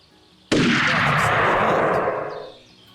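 A single loud rifle shot from the biggest rifle in Hunting Unlimited 2010 finishes off a downed bull moose: one sudden blast followed by a long rumbling tail that fades out.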